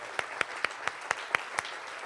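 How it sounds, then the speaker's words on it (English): At the New Jersey Governor's Jefferson Awards ceremony, the audience applauds the volunteer award recipients. A soft, steady patter of clapping is heard, with evenly spaced, sharper individual claps standing out near the microphone. "Please give a round of applause."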